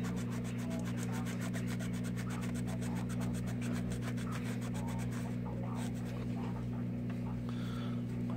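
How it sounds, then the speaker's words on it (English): Steady scraping and rubbing as old gasket residue is worked off a GY6 180cc scooter cylinder head, a continuous close abrasive rasp over a constant low hum, no speech. "Let's try to get all that gunk out of there from the old gasket sealed."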